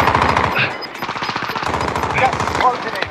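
Rapid automatic gunfire in the video game Call of Duty Warzone rattles in loud close bursts, with players talking excitedly over the shooting.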